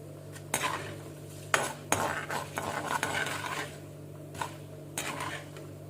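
Urad dal and lentils roasting dry in a pan for rava kichadi, stirred with a utensil that scrapes and clinks against the metal in irregular bursts over a steady low hum, close and moderately loud with no voices.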